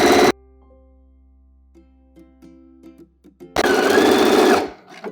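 A sewing machine stitches piping cord into fabric, opening with a short loud burst, then falling to a quiet hum with faint clicks. A long, loud, steady run of stitching follows before stopping near the end.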